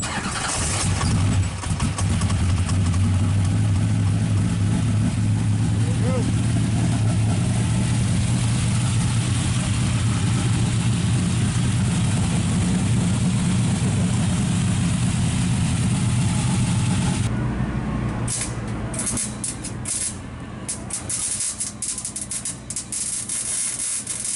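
A car engine fires up and settles into a loud, rumbling idle, then takes a few quick throttle blips toward the end that briefly raise the revs.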